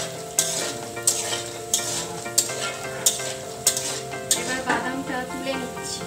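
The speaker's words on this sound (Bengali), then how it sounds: "বাদামটা একটু নেড়েচেড়ে ভাজবো" Peanuts are stir-fried in a pan while a utensil scrapes through them at a steady pace, about one sharp stroke every half-second, over a continuous sizzle and soft background music.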